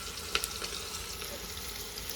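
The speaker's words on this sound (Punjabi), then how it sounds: "ਆਪਾਂ ਤੜਕਾ ਲਾ ਲਈਏ" Spices crackle and sizzle in hot oil as a tempering (tadka), with a few sharp pops over a steady frying hiss, close by.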